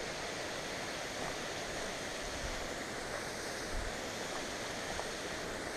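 Steady, broadband rush of falling water close by, a constant roar with no voices, holding evenly throughout.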